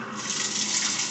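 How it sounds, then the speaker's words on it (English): Water runs steadily into a Whirlpool coin-op washer as it fills, a continuous hiss of flow heard close up for about a second with no talking. "you can probably hear it putting the water in"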